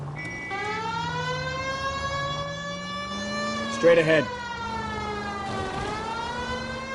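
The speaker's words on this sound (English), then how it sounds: "We've got a siren for a reason" Police car siren in the video game LA Noire wails continuously, its pitch rising and falling, with a brief louder burst midway while someone speaks over it.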